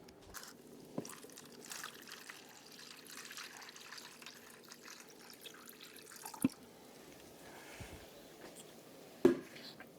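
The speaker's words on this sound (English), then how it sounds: "And I will water this as well." Water trickles and pours softly onto soil around a newly potted bare root perennial, a faint continuous dribble with a couple of small knocks, quiet and close.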